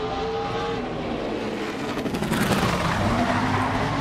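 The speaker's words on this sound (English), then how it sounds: "you heard the rear tires hopping on and off the racetrack" A NASCAR stock car at Martinsville during qualifying, engine loudly revving while the rear tires hop on and off the track, a dense steady roar with rough pulsing bursts midway, no talk.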